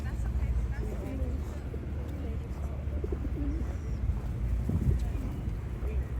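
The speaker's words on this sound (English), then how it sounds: "And watching the pigeons." Pigeons coo softly in a busy outdoor spot in Ireland, low repeated calls half buried under steady city rumble and background noise.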